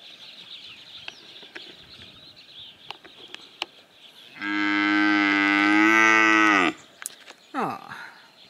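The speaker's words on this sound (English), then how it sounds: "So now I'm in the kraal looking at my cows." A cow lows once in a farm kraal, a long, loud, close moo lasting about two seconds, followed by a shorter call, amid scattered clicks and faint chicken clucks in the background.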